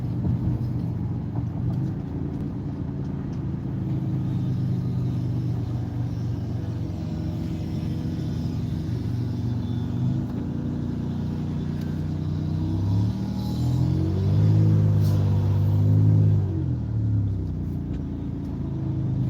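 Car driving in heavy traffic near a semi-truck, a steady low engine and road rumble heard from inside the cabin, swelling briefly as the vehicle picks up speed near the end, with no talking.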